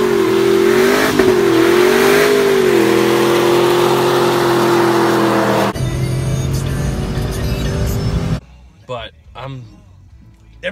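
A Ram truck, its boost removed, revs hard under acceleration, the engine note climbing and wavering loudly for several seconds before cutting off, followed by muffled clatter and brief talk near the end.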